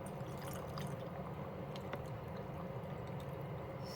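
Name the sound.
brine being poured to fill jars for pickled green tomatoes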